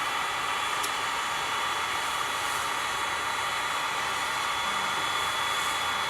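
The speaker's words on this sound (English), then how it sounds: "The heat gun does get pretty close to it" Heat gun blowing hot air during a coffee bean roast, a constant broadband hiss and whoosh that stays steady and close for several seconds without any speech.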